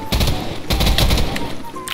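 Firearm gunfire in Minecraft: loud, close bursts of rapid shots in two quick volleys, sharp and crackling like a machine gun, with no talking.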